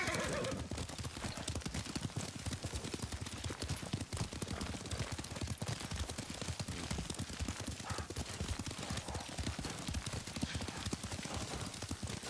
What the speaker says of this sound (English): Lord Sakai taught me to ride a horse.